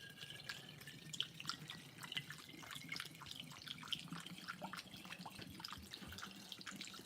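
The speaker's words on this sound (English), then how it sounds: "That's the sound of scotch pouring into a bottle." Scotch whisky trickles through a funnel into a bottle aboard a bass boat, a faint, continuous liquid gurgle with small splashy drips, close by and steady throughout.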